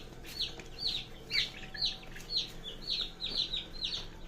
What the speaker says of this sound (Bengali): যেহেতু আমরা একটা মুরগি নিয়ে কাজ করি